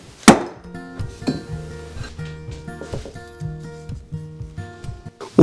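A kitchen knife strikes a cutting board in short, sharp chops as vegetables are trimmed for a quick one-pot involtini and vegetable dinner; a few distinct knocks sound close by over quiet background music.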